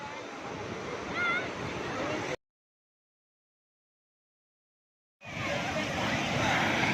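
Surf washing onto Besant Nagar beach during a holiday outing, a steady broadband roar with wind noise, broken by a few seconds of complete silence before the wash resumes; faint distant voices mix in.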